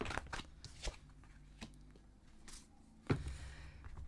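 Tarot cards are shuffled and drawn in a quiet room, with soft riffling bursts and sharper card snaps, including a crisp slap near the end, close and faint with no talking.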